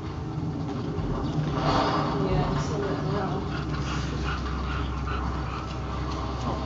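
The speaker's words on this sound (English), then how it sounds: "Dogs, why are you in here?" Dogs in a room whimper and pant softly beneath a steady bed of background noise and voices, staying close and low throughout.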